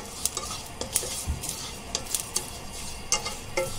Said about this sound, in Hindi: अभी ये हमने किशमिश डाली, अभी किशमिश को फ्राई कर रहे हैं।